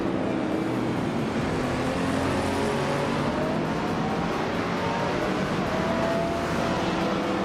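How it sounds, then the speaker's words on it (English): Vintage race cars, a 1973 Porsche 911 RS among them, lapping the Albi circuit in a racing video game, with a steady, continuous engine drone and faint rising whines of revving motors throughout. "race is underway at Albi with vintage street cars on the track"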